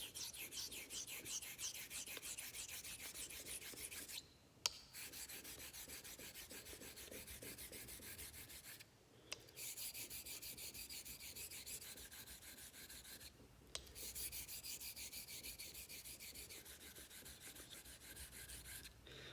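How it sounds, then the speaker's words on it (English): Steady back-and-forth rasping of a Filarmonica 13 Doble Temple straight razor being honed on a stone during bevel setting, close and continuous, broken by three short pauses. "So I'll go ahead and keep honing."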